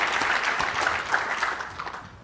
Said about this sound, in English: let's give applause for our engineering team